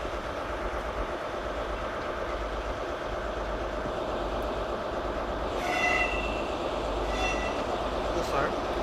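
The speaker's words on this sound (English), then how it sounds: "HST arriving at platform 13." An HST passenger train pulls into a station platform with a steady, close rumble of wheels and engines. Brief high squeals and tonal brake or horn notes rise near the end.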